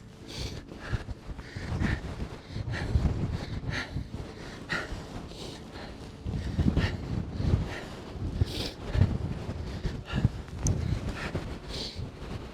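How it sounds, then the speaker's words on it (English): Strong wind roars across the top of Great Gable, a mountain summit, buffeting the microphone in steady, heavy gusts for the whole stretch with no talk. "you've got to experience this wind"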